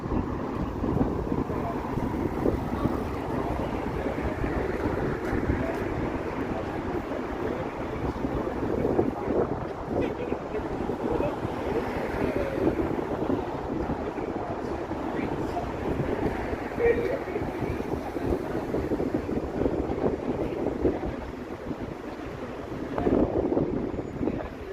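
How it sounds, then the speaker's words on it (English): Wind blows on a Toronto city street on an evening, a steady rumbling roar buffeting the microphone with gusts rising and falling throughout. "It's gotten windy here."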